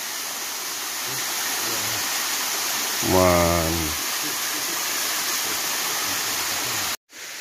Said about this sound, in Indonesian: kita menemukan lagi nih air terjun mungil,